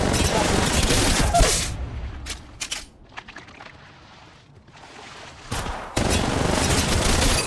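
Loud bursts of rapid automatic gunfire in a mobile squad shooter game, dense volleys at the start and end with a quieter stretch of scattered shots and effects in between.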